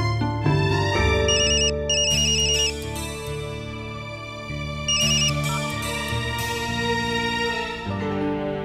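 A melodic electronic ringtone plays continuously, with bright chiming notes repeating in phrases; loud and close, no talking.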